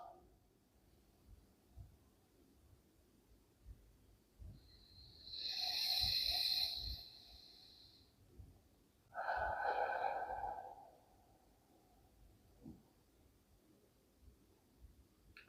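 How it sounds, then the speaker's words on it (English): Slow, deep breathing during a relaxation exercise: one long airy inhale followed a few seconds later by a shorter, stronger exhale, close and fairly soft over a quiet room. "Breathing in and out."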